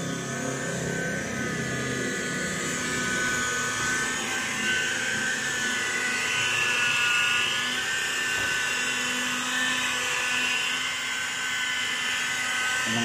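A polishing machine buffs the paintwork of a black car, giving a steady, continuous high-pitched whir with a droning motor hum that stays close and fairly loud throughout, with no one talking.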